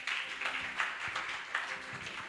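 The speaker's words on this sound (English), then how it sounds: "you should give yourselves a bigger round of applause than you gave when Ashfaq asked for it" Audience at an economics review evening in South Africa applauds together, a steady dense wash of clapping that stays fairly even throughout with slight swells.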